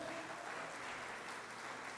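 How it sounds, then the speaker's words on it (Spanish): Audience applause fills a live church worship gathering, a steady broadband wash of clapping holding evenly through the whole moment with no clear voice on top. "Dale un aplauso al Rey de Reyes"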